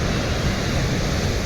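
Sea waves wash ashore at RK Beach in Visakhapatnam, a loud, unbroken roar of surf close by with no voices.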